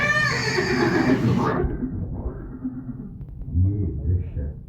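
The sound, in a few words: horse neighing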